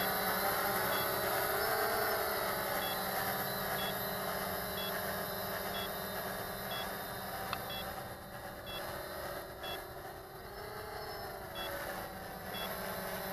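A drone's remote control gives short, evenly spaced electronic beeps during hover calibration, faint and repeating over a steady background hum.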